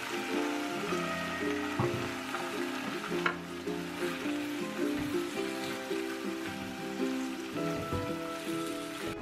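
Spinach frying in a cooking pot just used for potato pancakes gives a steady, close sizzle with stirring scrapes, running continuously with no talking.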